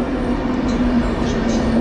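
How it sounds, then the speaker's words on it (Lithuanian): Steady rumbling noise of a train departing a station, with a low hum, continuous and fairly loud, no voices. "išlydžiu traukinį"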